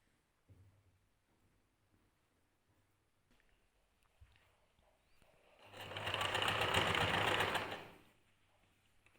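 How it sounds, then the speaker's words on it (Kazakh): A sewing machine runs a steady, loud burst of stitching along a long dress seam, lasting about two and a half seconds after quiet handling noises, with no talk. "Осыны тігіп шығамыз қазір. 1 см тігіске қалдырып."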